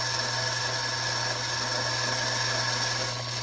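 A powered brush spinning inside brass cartridge primer pockets during reloading, producing a continuous motor hum and whirring buzz at steady level for the whole few seconds.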